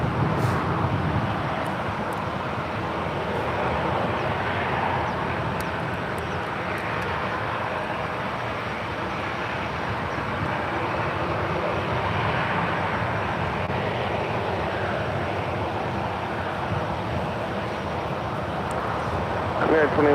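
An airliner landing on runway 28 left at San Francisco airport, a steady broad jet roar held for about twenty seconds at moderate distance, with radio voices and people talking throughout.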